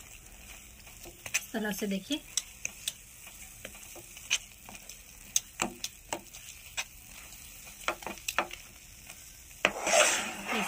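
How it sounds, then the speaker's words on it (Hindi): Mithai mixture being stirred while it cooks, with intermittent spoon clicks and scrapes over a faint sizzle, a short stretch of speech early on, and a louder burst of hiss near the end. "लगातार आप चलाते रहिएगा।"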